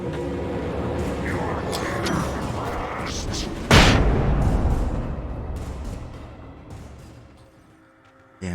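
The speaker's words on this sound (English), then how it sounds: "Damn, flashbangs are actually overpowered." A flashbang grenade bursts in the video game Alan Wake, one sharp loud blast that rings out and slowly fades after a rumbling stretch of gunfire-like noise, with a voice speaking around it.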